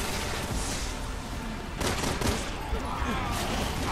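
Rapid bursts of gunfire in the survival-horror video game Resident Evil 6, a dense crackling fusillade of shots against a busy game soundscape, with faint talk mixed in.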